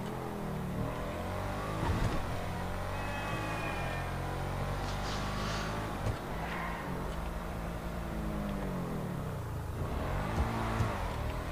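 The V12 engine of a Schafter car in GTA 5 Online revs and accelerates repeatedly, rising and falling in pitch with gear shifts, a continuous roar with no talking.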